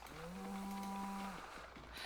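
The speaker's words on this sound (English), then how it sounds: "The cows really did not like that" Cows in a video game moo after being shoved, one long low sustained bellow in the foreground, followed by fainter rustling and background game noise.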